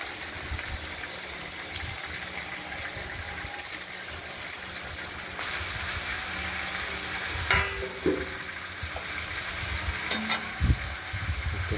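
Mixed vegetable curry with stalks and jackfruit seeds is stirred in a pan, giving a soft continuous sizzle with occasional scrapes and sharp clacks of the spoon against the pan.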